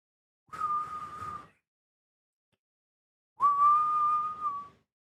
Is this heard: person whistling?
yes